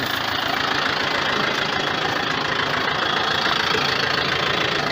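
A Japanese tractor runs steadily during rotary tilling, its engine a loud, unbroken mechanical drone heard from inside a rattling cab, with no pauses or voices.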